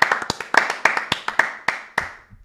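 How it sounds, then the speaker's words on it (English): Hosts and guests of a Saturday football talk show give a short, sharp round of clapping, about ten distinct close claps in an uneven rhythm that trail off. "Big clap to everyone."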